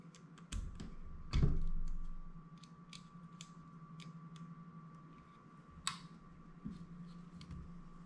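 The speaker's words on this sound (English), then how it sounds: "loosening all the screws you see on the top plate. Loosening them one by one." Small clicks and taps from loosening the screws on the top plate of an FX Impact M3 airgun one by one, fitted with a slug power kit; the sounds are close, sparse and faint, with one heavier knock early on.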